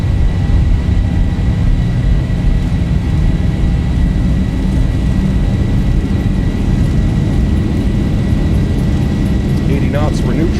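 Engines of a Boeing 737-800 (Zibo mod) at takeoff power in X-Plane 12 put out a loud, steady low roar and whine that fills the whole span, with a few short bursts of speech over it.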